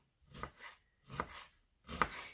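A knife finely chopping a quarter of a large onion on a board, in three close, distinct bursts of rapid blade taps with short pauses between them.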